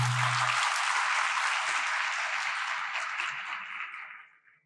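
Audience applause fills a conference hall after a call to applaud, steady clapping from many hands that holds strong for several seconds before tapering off and fading out.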